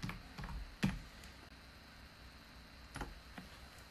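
Computer keyboard keys tapped while entering an image-generation prompt, a few sparse, soft clicks spread out with quiet pauses between them, close by, no talking.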